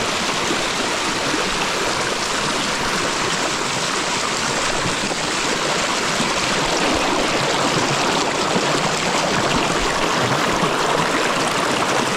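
Water rushes steadily near Bhimtal lake, a broad, continuous roar of flowing water that stays loud and even throughout with no voices.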